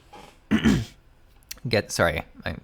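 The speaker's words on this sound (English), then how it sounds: "I'm sorry if I'm like clearing my throat and stuff too." A person clears their throat a few times, short rough rasping bursts close to the mic.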